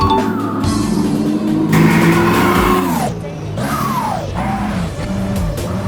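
A loud, steady engine drone from a dump truck in Farming Simulator 22, hauling sand and stone, pitch rising and falling as it revs, with a brief voice underneath.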